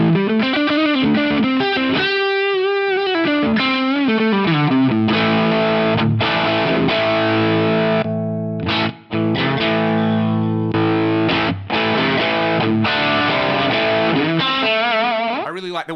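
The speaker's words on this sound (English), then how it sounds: "This will give us a really smooth sounding drive" Smooth overdriven electric guitar through a Fractal VP4 drive on the neck pickup, with treble raised and bass lowered, playing sustained chords and melodic lines steadily and loudly, alone without talk.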